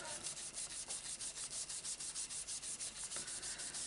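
A greetings card being rubbed to lift off leftover residue, a steady run of quick, even back-and-forth strokes with a dry scratchy texture, close and fairly quiet, with no talking.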